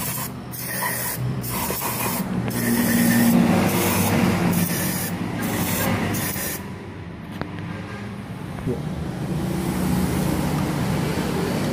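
Throttle cleaner sprayed from an aerosol can onto the throttle body of a Honda CBR250RR motorcycle, several short hissing bursts then a longer steady hiss, close and loud.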